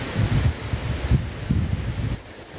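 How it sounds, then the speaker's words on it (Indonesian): Strong wind on a mountain buffets the microphone in low, rumbling gusts that swell and fade, loud and close. "Namun tiba-tiba angin juga bisa berhembus lumayan kencang seperti ini."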